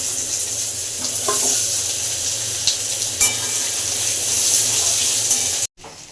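Cut potatoes and onion fry in hot oil, a loud steady sizzle with stirring scrapes and pops, cutting off abruptly near the end before resuming.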